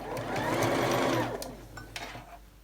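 Sewing machine running steadily for about a second and a half, its fast whirring stitch close and loud, then slowing and stopping, followed by a few light clicks and handling noises; stitching is done without the top thread in.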